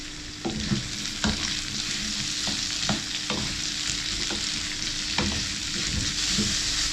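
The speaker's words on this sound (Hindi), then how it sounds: "इनको हाई हीट में हम लोग टॉस करते हैं करीब 1 मिनट।" Chopped vegetables tossed over high heat in a pan, a loud continuous sizzle broken by repeated scraping and clanking stirs, close up with no voices.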